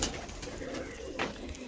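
A male pigeon kept for competitive pigeon flying coos softly nearby, giving a few low, throaty, rolling calls with no one speaking.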